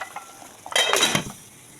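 A metal lid is set onto a cooking pan of eggplant, giving a short clattering clink with a brief sizzle. It is close and moderately loud in an otherwise quiet kitchen, and nobody is talking.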